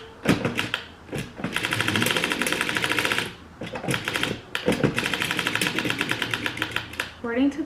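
A circular sock machine cranking in loud bursts of rapid, rattling clicks, stopping briefly and starting again, with a short sound at the end.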